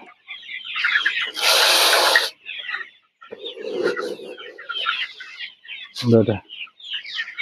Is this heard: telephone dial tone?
no